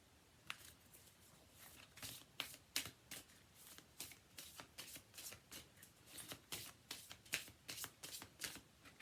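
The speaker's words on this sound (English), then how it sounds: "Let's pull a karma card." Karma oracle cards being shuffled and pulled, a steady run of crisp riffling flicks and slaps lasting several seconds, close and fairly quiet with no talking.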